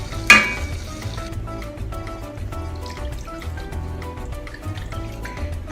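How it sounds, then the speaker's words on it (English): Water poured into tomato puree sizzling in a pan for butter chicken tikka masala: a sharp splash at the start, then a steady hiss and bubbling with small drips. It is close and moderately loud, and no one speaks. "I'm adding about 2 ounces of water."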